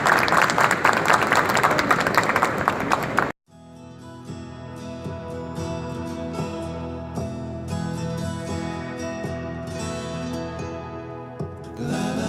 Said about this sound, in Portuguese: Pessoal, uma salva de palmas aqui